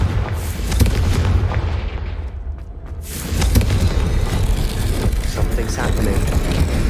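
Confringo blasting spell explosions in the Hogwarts Legacy video game, a loud, sustained roaring rumble with booming bursts that briefly dips and then surges again, filling the scene.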